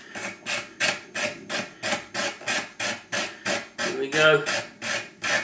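Sandpaper rubbing back and forth to sand out the slots of a handmade wooden knocker, about a dozen steady, evenly spaced rasping strokes close up, with a brief spoken remark near the end.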